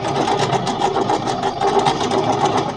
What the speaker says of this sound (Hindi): अलग साइड से साउंड है, तो इसका बेल्ट वगैरह डैमेज हो गया होगा।